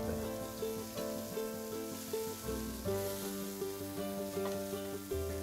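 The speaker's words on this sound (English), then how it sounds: "We've dusted all our venison cubes with corn flour, and we're now going to put them into a smoking, very hot, well-oiled fry pan." Venison cubes dusted with corn flour sear in a smoking-hot, well-oiled fry pan, a soft sizzle under strong tonal background music with rhythmic swells, and no voices.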